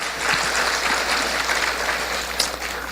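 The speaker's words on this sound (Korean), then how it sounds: "우리 살맛 나는 축복의 박수 같이 한번 하겠습니다" An audience at a church teachers' seminar claps together in a steady, dense burst of applause lasting the whole stretch, loud and close with no talk over it.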